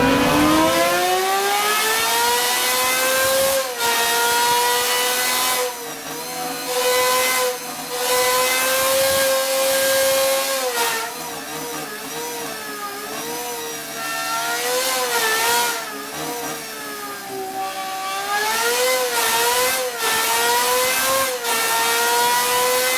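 An Aston Martin Valkyrie's naturally aspirated V12 engine screams repeatedly toward 11,000 rpm, climbing and dropping in pitch through several loud, sustained pulls, close by with no talking.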